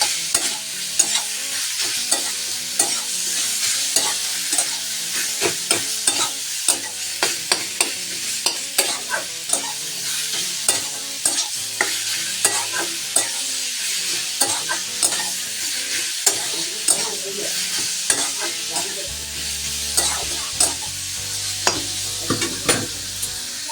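Kohlrabi curry sizzles steadily in a pan while a spatula stirs it, producing a continuous frying hiss punctuated by frequent close scraping clicks throughout.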